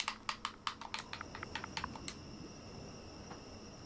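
Someone types a command into a computer keyboard while playing Ark Survival Evolved, a quick run of crisp key clicks that thins out after about two seconds. The clicks are faint and close, with no talking.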